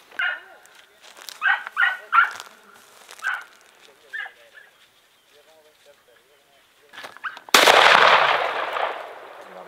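Andalusian hounds bark during a rabbit hunt in open country. A handful of sharp barks come in a loose cluster early on, then it goes quiet before a sudden loud blast of broadband noise.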